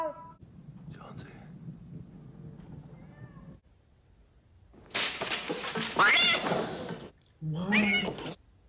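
A cat lets out two loud, drawn-out meows close by, following a stretch of faint, hushed murmuring and a brief pause.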